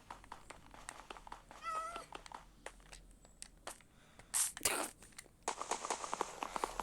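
A cat meows once in Minecraft, a short wavering cry standing out among scattered clicks and soft footstep-like taps, with no talking.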